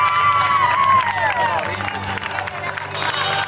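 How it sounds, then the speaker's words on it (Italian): A crowd at a Calabrian tarantella concert in Gioia Tauro applauds, a dense, steady wash of clapping mixed with cheers and a whistle-like whoop, all heard at close range. "quindi ve lo fate un applauso."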